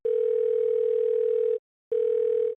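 Telephone line tone heard while calling a tax accountant, a loud steady pure tone held for about one and a half seconds, a brief silence, then a second shorter tone.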